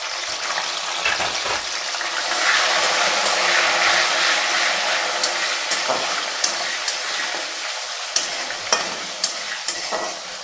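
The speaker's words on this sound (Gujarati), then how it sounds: "ટામેટા આપણા સોફ્ટ થાય ત્યાં સુધી એને શેકાવા દઈશું" Tomatoes roasting in spiced masala in a pan, a continuous close sizzle and frying hiss with clicks of a spoon stirring and scraping toward the end, no talk.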